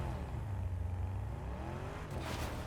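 A Lamborghini driven in Fortnite Zero Build gives off a steady engine hum with rising revs, moderately loud and continuous throughout, ending in a brief whoosh.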